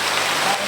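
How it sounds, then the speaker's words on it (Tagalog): Heavy rain driven by wind gives a dense, loud, continuous hiss and patter. It is steady across a brief moment, with no voices. "Yan. Hangin at ulan."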